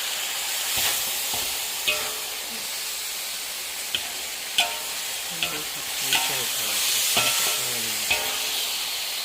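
Pork with ginger is stir-fried in a pan, making a continuous loud sizzle broken by sharp spatula clanks and scrapes at irregular intervals, close up and without talk.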